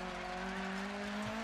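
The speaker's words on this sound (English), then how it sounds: "Listen to that engine." A rally car engine in DiRT 4 drones at a steady, high pitch, a sustained buzzing roar with strong harmonic tones and a slight rise in pitch, loud and continuous with no talk.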